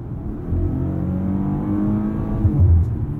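A 2020 Maserati Quattroporte S at full throttle in fifth gear: a steady, loud engine drone from inside the cabin, holding a low rumble for about three seconds with a slight rise and a brief swell near the end.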